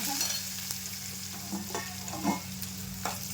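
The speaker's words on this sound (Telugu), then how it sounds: "ఉల్లిపాయ ఇలా వేగేటప్పుడు గుప్పెడు కరివేపాకు వేసుకున్నాను." Onions and a handful of fresh curry leaves fry in a pan, a continuous steady sizzle with occasional stirring scrapes and light taps, fairly quiet, no voices.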